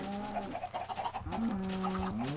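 Chickens cluck in the video game Minecraft, several short pitched clucks in quick succession, close and clear, with a brief game sound and no talk over them.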